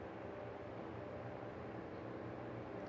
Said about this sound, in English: Well, that's got to be white noise.